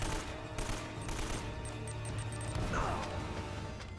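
Rapid video game gunfire from Uncharted, a dense, continuous stream of shots and impacts at steady loudness with a brief sweeping effect near the end.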